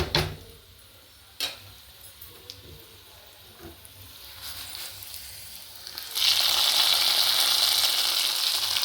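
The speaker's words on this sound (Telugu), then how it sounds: "ఈ తాలింపులు అనేవి వేసేసుకుందాం" Tempering for pongal is added to hot oil in a pan, quiet stirring and a few clinks first, then a loud, steady sizzle erupts and keeps hissing close up to the end.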